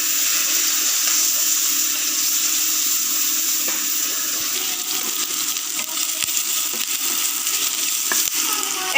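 Chopped ginger and garlic fry in hot oil in a pan, giving a loud, steady, close sizzle that runs unbroken throughout, with occasional soft scrapes and ticks.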